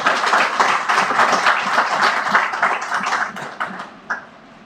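A university lecture audience claps in a full, continuous burst that thins out and dies away in the last second.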